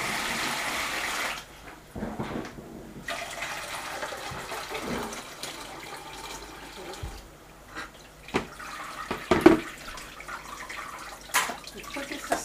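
Millet being washed in water, with intermittent sloshing, swirling and pouring splashes at close range, irregular bursts separated by quieter pauses as the grain is stirred and strained.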